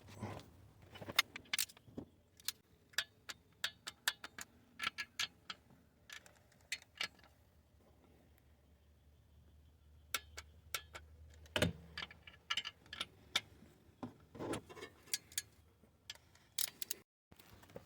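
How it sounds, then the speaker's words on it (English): Torque wrench tightening the bolts on a Toyota oil pickup, with a long series of sharp, close clicks in irregular clusters separated by quiet pauses. "I'm gonna torque these down"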